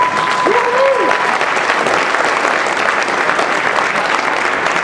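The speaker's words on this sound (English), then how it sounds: "Where's that applause?" A crowd at an awards ceremony applauds steadily for several seconds, with dense, even clapping that stays loud from start to finish. A brief tonal sweep sits near the start.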